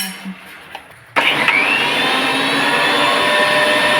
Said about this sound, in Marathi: मिक्सर करून घेतलं बारीक